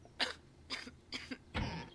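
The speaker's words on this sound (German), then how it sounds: "Ja, huste schön ins Mikro." Four separate coughs, close to the microphone and fairly loud, spaced about half a second apart during a game session, with no talking.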